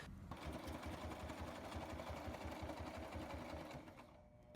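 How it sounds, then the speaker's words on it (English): A sewing machine stitches Velcro squares onto a cosplay glove, running loud and steady with a fast, even motor pulse for nearly the whole stretch before easing slightly at the end. "Begin sewing the VELCRO squares on your glove."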